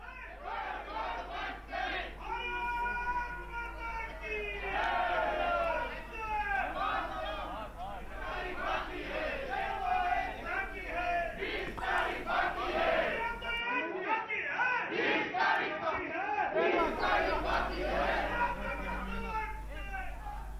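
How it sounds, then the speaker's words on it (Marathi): Supporters at an election victory celebration in Gondia chant slogans loudly in unison, a dense crowd of rhythmic shouted voices that continues throughout with a brief dip partway through. "समर्थकांकडून जोरदार घोषणाबाजी करण्यात आली."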